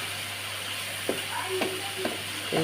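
Onion, green chili and dried fish fry in hot oil, a steady close sizzle with a few sharp clinks and scrapes of a spatula stirring the pan at irregular intervals.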